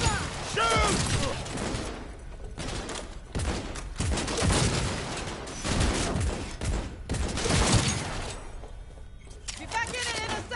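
Gunfire in the video game Cyberpunk 2077 erupts in dense, loud bursts of rapid shots with brief gaps between volleys, backed by game music and effects.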